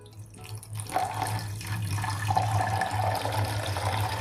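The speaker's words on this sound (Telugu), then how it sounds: "కొంచెం వాటర్ పోద్దాం" Water is poured into a pan holding bitter gourd pieces with salt, turmeric and tamarind, a steady splashing trickle with gurgling bursts and a low background hum, no speech over it.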